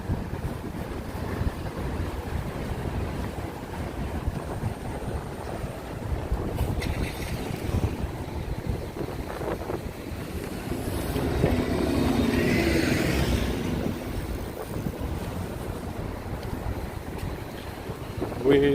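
Wind buffets and rumbles continuously against the microphone on a New York City street by 42nd Street, with a broad roar of outdoor noise, swelling slightly partway through.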